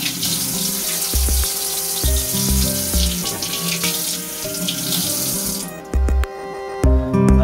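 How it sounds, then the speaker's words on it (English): Cold tap water runs into a sink while tilapia fish is rinsed, a continuous splashing stream with brief changes as the flow is interrupted and resumes, heard close up and without talk. "just take some cold water"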